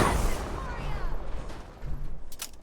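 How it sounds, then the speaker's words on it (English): A plasma rifle fires in Fallout 4: a loud opening discharge trails off into a hissing wash, with another short crackling shot near the end. "just chonk through with my plasma rifle"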